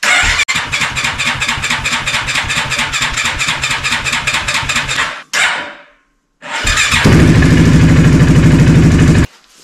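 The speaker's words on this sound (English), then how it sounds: "Now, I'm gonna do a cold start on this real quick and see if there's a difference." Cold start of a Polaris Sportsman 450 engine fitted in a Ford Raptor ATV: a long run of rapid rhythmic cranking or clattering, a brief cut-off, silence, then the loud engine catching and running steadily nearby.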